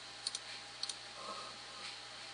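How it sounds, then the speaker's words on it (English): Computer keyboard keys clicked during work in Maya 3D animation software: two quick pairs of crisp, light taps close together, then a softer click in a quiet room. "I'm going to hit S on the keyboard to set a keyframe."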